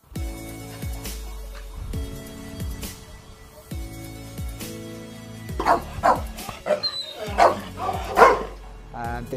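A female dog at a rescue centre barks and yips in a string of close, loud bow-wows, with sharper, higher yelps building toward the end over a low background hum.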